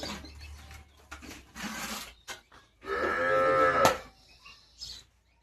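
A cow lets out a long, loud moo close by, preceded by shorter lowing sounds and a few scattered knocks.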